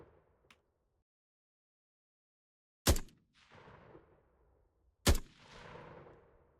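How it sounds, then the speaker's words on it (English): Guns fired from the hip by AI soldiers in a Vietnam-era first-person shooter game: two loud sharp shots a couple of seconds apart, each followed by a rolling echoing tail, plus a faint earlier pop against near silence. "the AI only ever hip fires, but the hip firing is pretty accurate"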